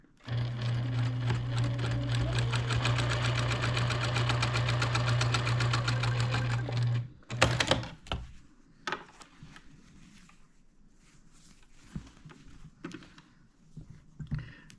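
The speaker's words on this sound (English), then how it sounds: "I've switched back to my 1/4 inch foot so that all my seams are consistent" A sewing machine fitted with a quarter-inch foot stitches jelly roll quilt seams, running steadily and loud for about seven seconds before stopping, followed by quieter handling noises of fabric and small clicks.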